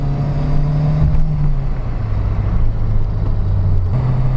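Steady, loud Peugeot 205 GTI engine drone with a low, rumbling tone that shifts pitch slightly as it holds and revs, heard close from inside the cabin through a thin bulkhead.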